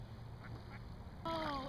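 Ducks and Canada geese on cold water, with low rumbling background for most of the stretch, then a loud, near honking call bursts in near the end.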